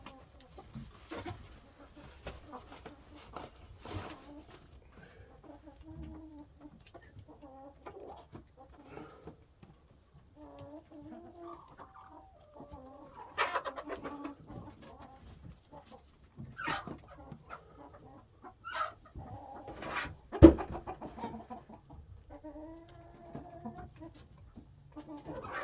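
Young brown broody hen sitting on eggs, making scattered low clucks and soft grumbling calls at close range, with occasional sharper squawk-like bursts and brief handling noises between them.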